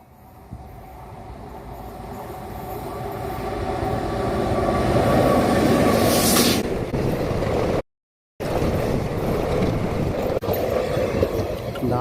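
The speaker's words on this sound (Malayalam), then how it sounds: "ഒരു ട്രെയിൻ അവിടെ നിന്ന് ഇങ്ങോട്ട് വരുന്നുണ്ട് കേട്ടോ" A Nagercoil–Nilambur passenger train approaches and passes in a village near Kollam, its rumble swelling steadily to a loud roar with a faint wheel squeal, then continuing to clatter past.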